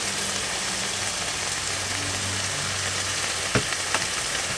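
Pasta and sausage frying in a pan, a steady broadband sizzle holding throughout with a couple of brief clicks of utensils near the end.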